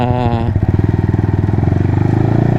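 A Yamaha Sniper motorcycle engine runs close and loud, its rapid pulsing exhaust beat steady after a short rise in revs, with a voice briefly audible over it at the start.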